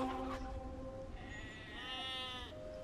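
Sheep in the video game Age of Empires II give a couple of clear, quavering bleats, close and distinct over a soft game background.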